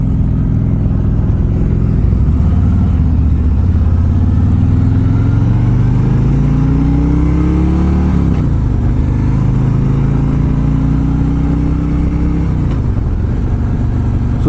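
Harley-Davidson Road Glide motorcycle on a demo ride, its engine droning loudly and steadily with rising pitch as it accelerates through gear changes, accompanied by constant wind rush and no talk.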